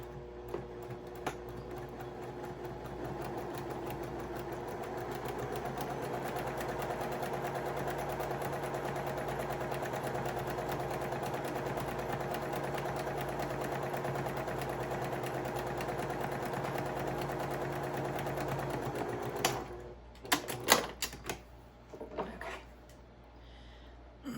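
A sewing machine stitches fabric pumpkin pieces face to face with a quarter-inch seam, a steady close rhythmic whirring run for about twenty seconds, then stopping with a few clicks and handling noises.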